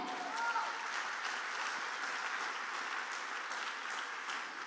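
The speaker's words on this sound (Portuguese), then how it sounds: "Dê um forte aplauso a ele" A church congregation at a Sunday family evening service claps together, a soft, even patter of many hands heard at some distance and fairly faint throughout.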